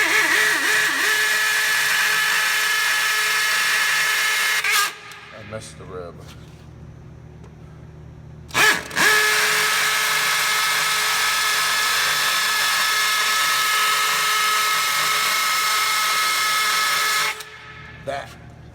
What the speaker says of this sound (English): I'm gonna try and hit the rib of the cinder block.